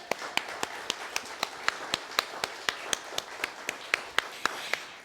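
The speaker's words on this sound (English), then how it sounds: "we'll give a big round of applause to Hector" Rhythmic unison clapping from a storytelling festival audience welcoming storyteller Hector, evenly spaced sharp claps in a steady beat, fairly close and distinct, with no talk over it.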